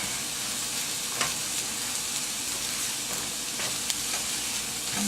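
Leftover tortillas fry in a pan, giving a continuous even sizzle at close range, with a few sharp spatters and the scrape of a turner against the pan.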